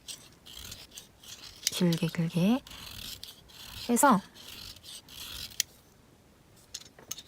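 A wooden art pencil is shaved with a blade in several short, close scraping and rasping strokes, with a person speaking softly between them.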